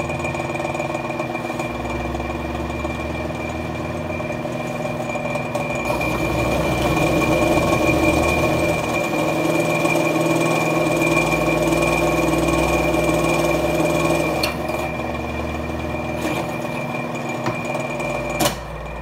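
Large drill bit boring a big hole through thick metal, a steady loud mechanical whir with a constant machine hum that swells slightly in the middle, continuous with no talking.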